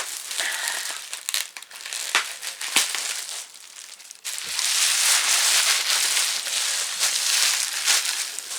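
Scissors cut through bubble wrap around a PS4 limited edition of Trails of Cold Steel IV, followed by the wrap being pulled away, making close, loud crinkling and rustling with a few sharp snips and no talk.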